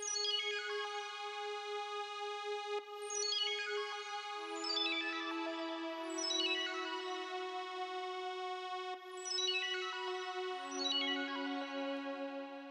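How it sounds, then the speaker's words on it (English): A string part inside a produced beat: sustained bowed-sounding chords with soft gliding note changes, clean and alone, holding for several seconds at a time. "Later on in the verse, we have this string part that comes in, and that sounds like this."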